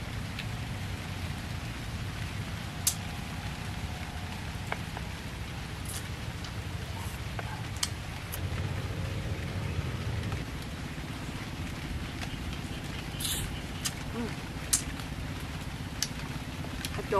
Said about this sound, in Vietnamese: trời ơi, chuẩn bị mưa rồi đó mọi người